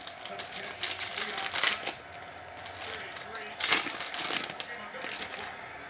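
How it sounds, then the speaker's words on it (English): A 2021 Prizm Baseball hobby pack is torn open, with crinkly foil ripping and rustling in bursts and two louder tears, while someone talks over it throughout. "he says, go ahead and rip up the pack."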